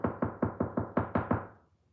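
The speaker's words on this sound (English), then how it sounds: "y'all hear how solid that is? That's that sound deadener." Seven evenly spaced knocks on a car door panel lined with sound deadener, each a dull, solid thud that rings briefly, close and loud, then fades after the last hit.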